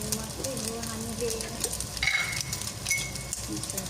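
Chicken strips fry in a pan with ginger garlic paste, cumin and coriander for a chicken pangra dish, giving a steady close sizzle with stirring scrapes and occasional utensil clinks and no talking.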